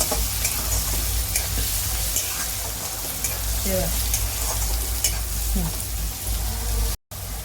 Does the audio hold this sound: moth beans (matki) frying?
yes